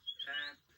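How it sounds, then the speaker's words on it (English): A lesser spotted warbler gives a single short, faint cry that rises in pitch and is over in under a second. "that's the cry of a lesser spotted warbler."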